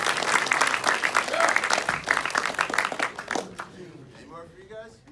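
Loud audience applause at a Screamfest horror fan convention, a dense burst of clapping and cheering that fades out after a few seconds, followed by people talking nearby.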